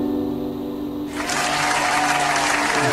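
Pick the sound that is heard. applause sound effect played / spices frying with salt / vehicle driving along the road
applause sound effect played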